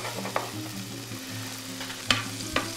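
Beef sizzles steadily on a hot deli griddle for a chopped cheese sandwich, with a spatula scraping and a few sharp metallic chops standing out over the constant frying hiss.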